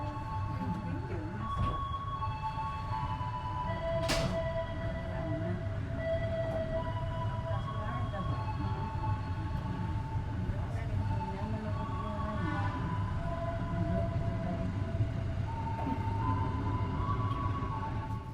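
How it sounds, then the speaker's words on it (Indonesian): Kutojaya Selatan passenger train pulling out of Tasikmalaya station at night, a steady low rumble heard from on board with drawn-out squealing and whining tones rising and fading over it. "Perjalanan kereta api Kuto Jaya Selatan akan berangkat lagi dari stasiun Tasikmalaya"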